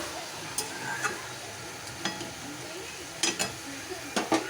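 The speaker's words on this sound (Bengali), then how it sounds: "মাংসটা এখন কষা হবে।" Chicken kosha sizzles in a pan as it is stir-fried, a steady frying hiss broken by occasional sharp clinks of a spatula against the metal, close and moderately loud without any talk.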